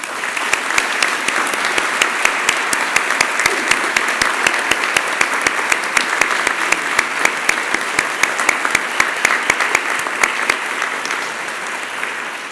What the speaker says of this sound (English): let's give all of these good folks a round of applause